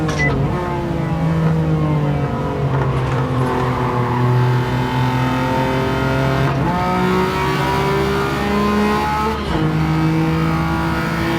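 A Honda-style VTEC engine in the Gran Turismo 7 racing game screams at high revs with steady, loud harmonic tones, dipping briefly at two clutchy gear shifts before climbing again.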